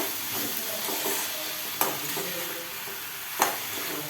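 Medium tomato slices sauté in a pan for tomato curry, a steady soft sizzle with scraping stirs and two sharp clinks of a spoon against the pan, no talking.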